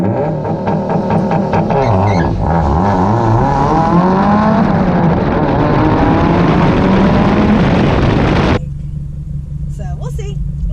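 Subaru WRX engine revving hard on launch control and then accelerating with loud sustained roar and rising pitch through gears, cutting off abruptly near the end, with people talking over it at a drag strip.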